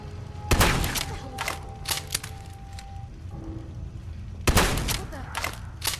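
A short, heavy single-shot scavenger shotgun in Fallout 4 fires twice, each a loud blast about four seconds apart, with smaller clicks and impacts between the shots.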